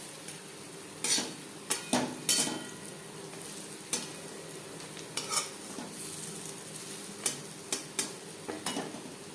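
Papaya fritters frying in a pan, a soft steady sizzle broken by several sharp clinks of a utensil turning them against the pan, fairly quiet with no voices.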